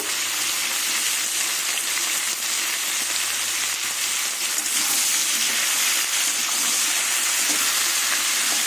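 Snake gourd, potato and green chillies sizzle loudly with shrimp in hot oil in a pan, a dense, steady crackling hiss that goes on throughout, close by and without talk.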